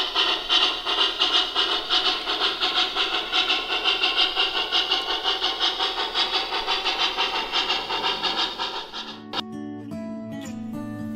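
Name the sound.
MTH model train locomotive running with ProtoSound 3.0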